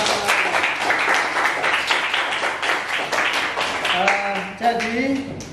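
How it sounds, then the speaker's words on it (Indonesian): Students in a class XII Qur'an and Hadith lesson applaud in the classroom with dense, steady clapping, which tapers as voices come in near the end. "Ya, kasih aplaus."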